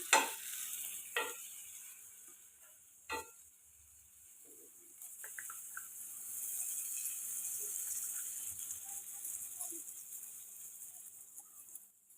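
Pav bread toasts in Amul butter on a hot pan, a soft sizzle with scattered stirring clatters and a few sharp knocks, the frying growing steadier toward the end; no talking.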